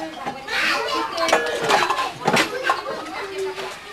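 Pots and pans clatter and clink as they are put away in a preschool classroom, with a voice and other chatter running underneath.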